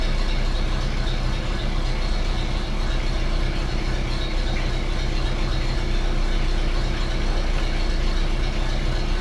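A steady, rumbling old truck engine idles continuously at close range, with a low throbbing drone and no voices. The engine runs cold-blooded, needing the choke even in hot weather.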